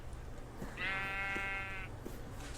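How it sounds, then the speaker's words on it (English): Single drawn-out sheep bleat from Minecraft, clear and mid-loud over a low background hum, with no talking. "look, this is a black sheep that's just outside the boundaries"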